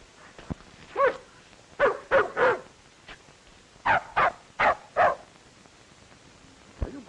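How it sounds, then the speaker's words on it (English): A dog barks in short bursts, pairs and clusters of sharp barks separated by brief pauses, close and fairly loud, with no talking. "Are you barking at that little dog?"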